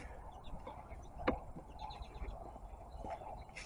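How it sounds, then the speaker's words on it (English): Birds call outdoors near a duck pen, scattered faint chirps and clucking notes over a low background hum, a few sharper calls standing out, no talking. "You hear all the birds?"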